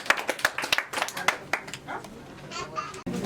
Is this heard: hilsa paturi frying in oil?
no